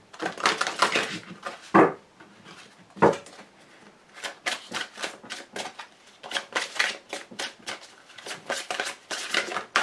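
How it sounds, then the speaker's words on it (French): A deck of cards being shuffled by hand, with repeated crisp riffling bursts and slapping flutters, some louder snaps, in a close, quiet setting without talk. "Un très joli jeu de cartes. Très facile à mélanger"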